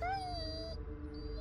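Bullet the dog in the Blair Witch video game gives a drawn-out howling whimper that falls in pitch, heard close and alone over a low rumbling background.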